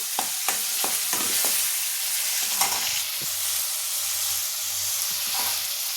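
Tomato puree for misal sautés in a pan with a steady bright sizzle, punctuated by several sharp spoon or spatula scrapes early on, close and without talk.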